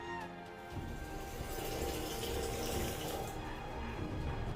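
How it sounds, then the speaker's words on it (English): Tap water runs steadily into an empty plastic bottle, a continuous close rushing stream with rising fill tone and no talk. "I use an empty bottle and fill it up with fresh water from the top"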